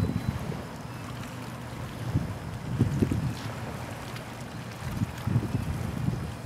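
Light wind of three to four knots blows across a sailboat on open water, a low rumbling buffet of gusts on the microphone with faint water wash beneath, steady and moderately quiet.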